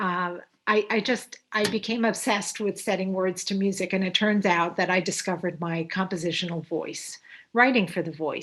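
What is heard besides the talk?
None of the usual background noises is heard.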